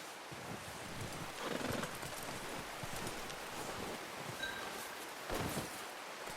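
A horse moves through the outdoor world of Red Dead Redemption 2, its hoof clops and snorts faint under steady wind and rustling, with a louder burst near the end.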